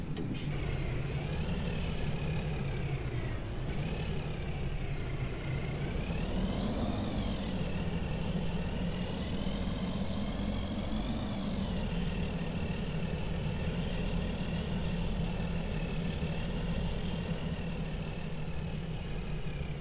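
A large bus, a mobile library coach on a rainy road in Goiás, drones with steady engine noise that dips as it brakes and then rises again as it accelerates, with no voices.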